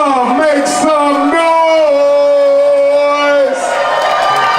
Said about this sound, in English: Black power, round of applause. Black power, make some noise.